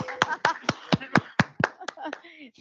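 Scattered applause from a panel discussion audience at a climate hub event: roughly ten sharp, evenly spaced claps over a few seconds, fairly close, with voices faintly underneath.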